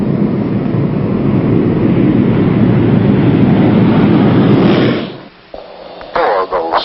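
USAF Thunderbirds jets hold on their brakes with engines at high thrust, making a loud, continuous roar that cuts off abruptly near the end and gives way to faint radio-like chatter.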